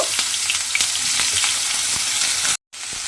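Diced eggplant sizzles loudly in hot oil, a dense continuous crackle with a few sharp spatters, broken briefly by a short silence near the end.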